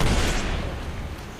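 Frag grenade blast in a battle-royale video game, one loud broadband boom at the start that rolls off into a long, fading rumble with no voices.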